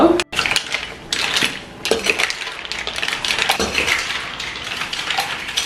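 Mussels are stirred through sauce in a pan, with a spoon clattering and scraping against the metal while the shells knock and rattle in irregular bursts of clinks and scrapes, close and fairly loud.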